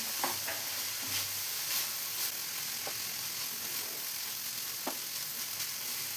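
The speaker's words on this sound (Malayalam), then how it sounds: "എല്ലാം കൂടെ ഒന്ന് മിക്സ് ചെയ്തെടുക്കാം" A spoon scrapes and stirs cabbage and egg thoran with grated coconut in a pan, giving a steady soft sizzle broken by scattered scraping clicks, close up and without talk.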